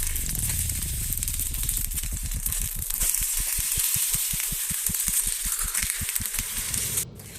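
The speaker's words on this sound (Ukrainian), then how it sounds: "Смажимо 2-3 хвилини на маленькому вогні," Mushroom cutlets sizzle steadily in a frying pan over low heat, with a quick run of rhythmic scraping or crackling pulses through the middle, no voices.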